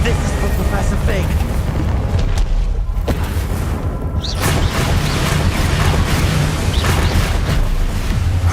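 Explosive Bombarda spell blasts in Hogwarts Legacy combat, heavy booms and bursts inside a constant loud wash of game noise, with a voice talking throughout.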